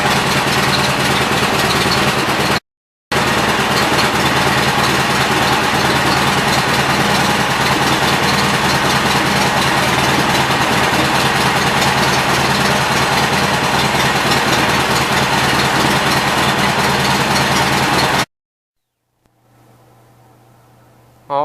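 A Gravely Westchester garden tractor engine idles steadily and loudly up close, with a low, even drone broken by one brief cut-out before stopping near the end.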